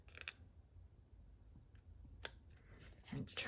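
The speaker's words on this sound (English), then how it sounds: "And now I can take my scissors" Scissors snip a few times up close, short crisp cuts with soft rustling in between and no talking.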